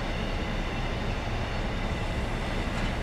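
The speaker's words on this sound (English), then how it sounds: "to bring the train to a nice slow smooth speed" A Class 60 diesel locomotive hauling oil tank wagons on the North Wales Coastal line in Train Simulator 2018 slows under firm braking, giving a steady, loud, unbroken rumble throughout.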